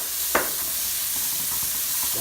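Onions fry in a pan with a continuous close hiss and sizzle, broken by a sharp scrape of stirring near the start.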